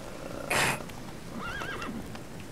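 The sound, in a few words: horse Roach running in The Witcher video game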